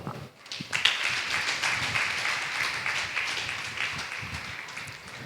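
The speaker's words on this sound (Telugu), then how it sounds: "కాబట్టి గట్టిగా చప్పట్లు కొడదాం." A church congregation clapping at a Saturday morning service, a dense, sustained wash of applause that swells in quickly and continues steadily, easing slightly toward the end.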